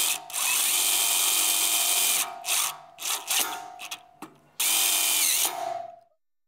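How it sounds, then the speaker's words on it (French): A power drill drives screws into a wooden exterior stair railing on a patio or balcony, running in several long and short bursts of loud whirring with brief pauses, ending in a final spin-down. "on essaye de visser le plus possible au centre du cran pour une fixation solide"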